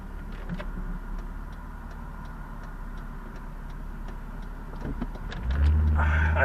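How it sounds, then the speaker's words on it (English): Car turn signal ticking steadily inside a vehicle idling at a traffic light, with a low engine hum beneath the even clicks and the engine growing louder near the end. "I turned on my turn signal"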